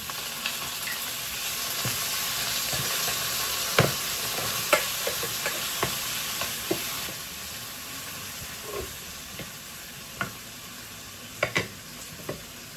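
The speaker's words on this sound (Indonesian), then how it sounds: "Saya suka masukkan tomat dulu baru tauconya supaya nggak gosong tauconya ya." Tomatoes and tauco (fermented soybean paste) fry in a pan with a steady close sizzle, while a spatula scrapes and taps the pan in scattered clicks every second or so.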